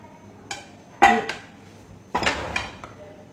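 Crumbled ragi whole-wheat cake being mixed in a bowl for chocolate truffles, heard as a few sharp clinks and scrapes of a utensil against the dish, close and moderately loud, spaced irregularly with quiet gaps between.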